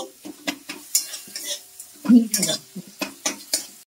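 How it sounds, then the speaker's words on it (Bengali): Cumin and ginger fried and stirred in a pan, with close scraping strokes of a spoon against metal over a light sizzle in an irregular rhythm. "এই জিরে আদাটা ভালো করে আমি কষিয়ে নেব।"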